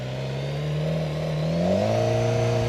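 A BMW S 1000 XR motorcycle engine pulls away in first gear, its steady mid-pitched drone climbing in pitch as the bike accelerates, loud and close with no talking.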